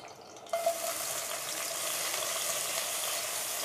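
Onions hit a tablespoon of hot oil with a sudden sizzle, then fry in a steady, close crackle while being cooked for chicken macaroni.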